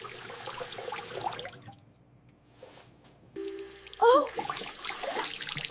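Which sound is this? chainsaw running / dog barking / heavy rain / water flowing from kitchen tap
water flowing from kitchen tap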